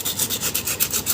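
Coarse sandpaper rubbed by hand across a brake pad, a close, rhythmic scratchy rasp repeating in quick even strokes.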